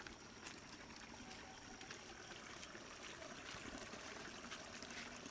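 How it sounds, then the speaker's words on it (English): A small channel of water trickles steadily on a village nature walk, a faint, continuous watery hiss with little change throughout. "That's a small channel of water."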